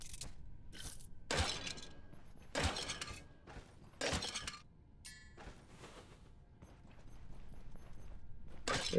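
Urns in the Stoneshard video game are smashed one after another, each giving a sharp ceramic shattering crash followed by scattered debris, four main breaks spaced about a second apart with fainter clatters afterward.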